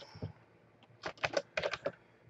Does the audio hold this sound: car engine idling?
no